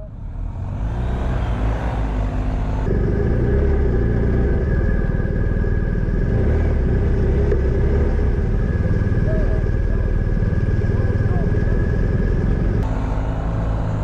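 A BMW R1250 GS motorcycle engine runs steadily at a constant throttle while riding, a loud continuous rumble with road and wind noise, no voices.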